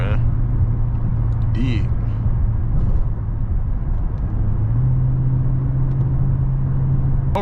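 Engine of a 500 hp Dodge Scat Pack car under hard throttle, a steady deep low drone that climbs in pitch partway through, heard from inside with a brief spoken word.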